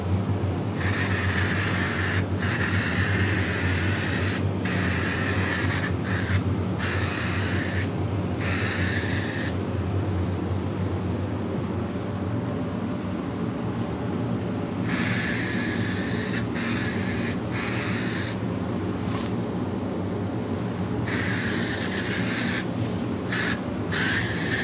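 Air-driven powder coating spray gun running at low air pressure while coating car parts, a steady broadband hiss lasting the whole stretch with regular brief dips as the trigger eases off and on.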